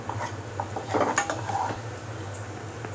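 Instant noodles being stirred and mixed into spices in a pan on a home stove while cooking an evening snack: scraping clinks and soft sloshing of utensil against metal, moderately close, over a steady low hum.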